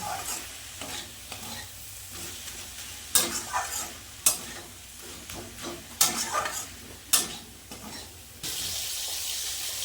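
Small shrimp frying in a pan with spinach are stirred with a spoon. Several sharp scrapes and knocks ride over a soft, continuous sizzle, and a louder hiss sets in at the end.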